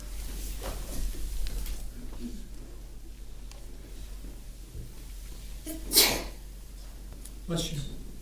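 A single sharp sneeze cuts through a quiet courtroom during a murder trial, followed by a second fainter burst, with a low hum and people talking around it.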